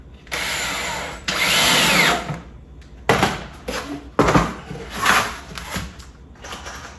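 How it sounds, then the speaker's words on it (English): A power drill drives screws into 3/4 inch wood while building a wooden swarm trap box: two longer whirring runs, then several shorter bursts with brief pauses between, close and fairly loud. "let's go ahead and put a couple more screws on this here"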